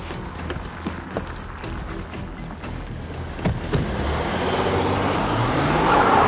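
A car engine runs as it is driven, a steady motor rumble with road noise that gradually swells louder toward the end, with a few scattered knocks and no speech.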